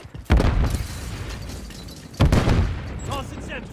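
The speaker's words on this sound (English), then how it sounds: "Throwing a stun grenade." Two sharp blasts from stun grenades in Modern Warfare 3, each a sudden loud bang followed by a ringing tail, with game noise between.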